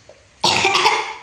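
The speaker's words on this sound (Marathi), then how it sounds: "तुला जर खोकला येतोयच का" One loud, harsh cough bursts out at close range after a brief quiet moment.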